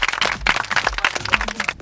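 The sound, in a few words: contestants applauding themselves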